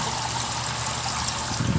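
Water trickling steadily through an overhead sump aquarium filter, a close, continuous light splashing and dribbling with no talk.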